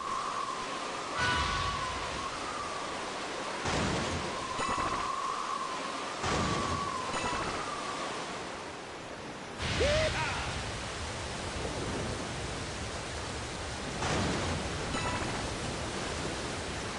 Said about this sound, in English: Rain, huh?